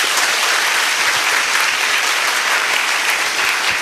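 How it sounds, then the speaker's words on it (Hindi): A crowd at a devotional Bhakti question-and-answer gathering claps loudly, a thick, continuous burst of many hands applauding up close, steady and sustained from start to finish without talk. "जोर से ताली बजाइए।"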